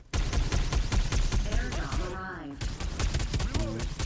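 Rapid bursts of gunfire from the battle royale video game Farlight 84 crackle in steady, closely spaced volleys, with brief gaps and other game effects mixed between the shots.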